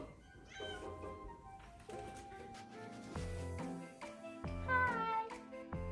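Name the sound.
cat meowing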